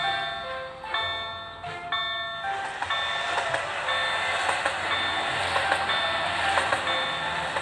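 Railroad crossing signal sounding with steady repeating alarm tones, loud and close, while a train approaches and passes along the tracks, with its rumble and clatter building under the bells.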